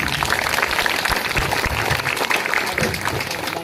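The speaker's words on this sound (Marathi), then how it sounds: "अशा सगळ्या लेकरांसाठी एकदा तुम्ही छान टाळ्या वाजवा" An audience at a village school's haldi-kumkum function applauds for the children, a continuous, fairly loud wash of clapping hands with no break.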